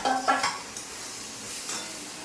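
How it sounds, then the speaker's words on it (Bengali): Fried potatoes tumble into a pan of cooked-down spice masala, giving a brief burst of sizzle and stirring clatter up front that settles into a softer, steady frying hiss, close and without speech. "মশলা কষা হয়ে গেছে, আলুগুলো দিয়ে দিলাম"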